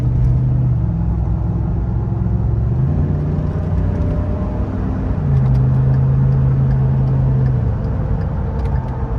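A 2013 Ford F150 Raptor SVT accelerates onto a freeway, its engine a loud, steady drone heard from inside the cab, with the pitch climbing and dropping through gear changes and no talking.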